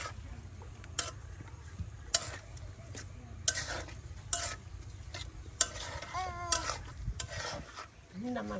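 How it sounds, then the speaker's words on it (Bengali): Rohu or pangas fish sautéed with ground spices and salt in a pan, a soft sizzle under repeated scraping stirs and sharp clicks of a utensil, with brief faint voices in the background. "মাছটাকে এখন ভালো করে কষিয়ে নেওয়া হবে।"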